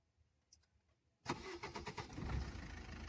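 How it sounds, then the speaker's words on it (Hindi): Car engine starting during a learner driving lesson: after a quiet second a sudden crank catches into a loud running engine that settles into a rough idle, close to the microphone. "अब आपको मैं गाड़ी को स्टार्ट करके दिखाता हूँ।"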